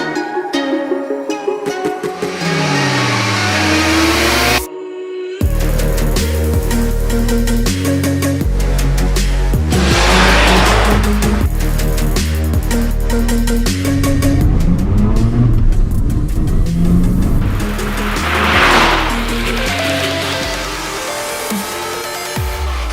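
A Mazda RX-7 FD sports car, rotary engine, accelerating hard and loud up close, revving through rising gear pulls with short breaks at the shifts and a brief cut in the sound early on.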